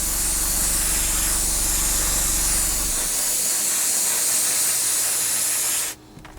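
Steady airbrush spray hissing as a fuller coat of paint goes onto a 1/48 scale Tamiya Supermarine Spitfire Mk.I model, a continuous broadband hiss with a low hum that cuts off abruptly near the end.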